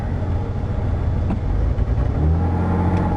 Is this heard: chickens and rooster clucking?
no